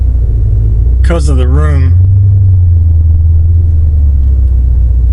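A finished C4 Crossfire Corvette with a manual transmission cruises on the road, its deep, steady engine rumble droning loud inside the cabin while someone briefly speaks over it.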